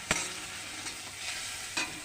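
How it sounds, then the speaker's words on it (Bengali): Onions browning in a pan with cumin and turmeric, giving a steady low sizzle broken by a few sharp stirring scrapes, close and alone. "এই যে আমার পেঁয়াজগুলো এরকম ভাজা হয়েছে"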